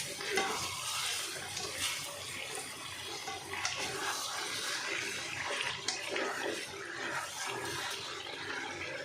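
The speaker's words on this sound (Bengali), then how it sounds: "মাংসগুলো বেশ লাল লাল করে ভাজা হয়েছে, আর একটু ভেজে নেব" Chicken pieces fry in a pan with a dense, steady hiss of sizzling oil and occasional stirring scrapes throughout, close and fairly loud, with no talk.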